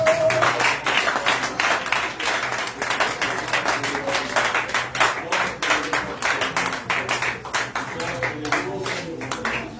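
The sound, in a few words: congregation clapping to acclaim Jesus Christ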